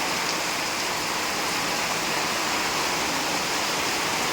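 Hard rain drums on a tin roof in an unbroken, even roar of countless drops, near and constant for the whole stretch.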